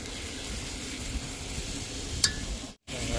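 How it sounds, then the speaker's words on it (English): Meat sears in a pan, giving a steady close sizzle and crackle with a brief sharp pop near the end before a short cut-out. "you can hear it starting to sizzle more"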